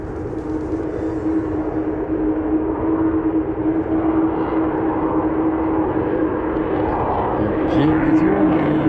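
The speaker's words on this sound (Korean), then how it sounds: "들리실지 모르겠는데 비행기 소음이" Airplane noise near the K55 air force airfield, a steady broad engine roar that holds loud throughout beside a riverside fishing spot.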